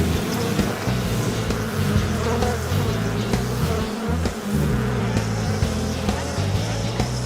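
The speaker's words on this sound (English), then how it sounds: "Bumblebees have 4 fast-moving wings." A bumblebee buzzes steadily with its fast-beating wings, a loud, close, continuous drone that holds without a break.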